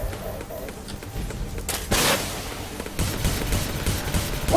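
Missile launches in the space combat game Star Conflict, bursts of rapid gunfire-like shots and booming thumps in steady clusters, loud and close amid game noise.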